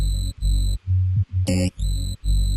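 Layered synth sub bass for a hard, bouncy UKG track, heard as punchy repeated bass notes in a choppy rhythm with a brief bright tonal stab in the middle, loud and alone.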